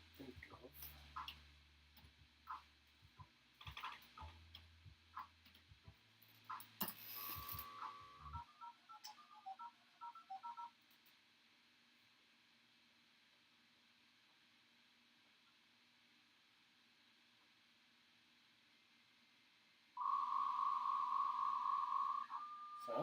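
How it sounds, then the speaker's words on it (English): A landline phone struggles to place a long-distance call, giving mechanical clicking and ticking at first, then a long near-silent stretch, and finally a loud steady tone that starts near the end. "Sounds like it's trying to dial in right here."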